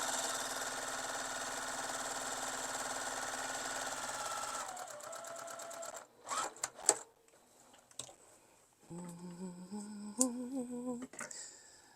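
A sewing machine quilting a tote bag runs in a steady continuous whir for about five seconds, then stops and gives way to short bursts, clicks and handling noises, followed by another brief run.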